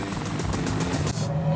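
Lifeguard search helicopter flying during a water rescue search at a San Diego beach, a steady loud rotor chop with rhythmic blade pulses over a broad engine roar.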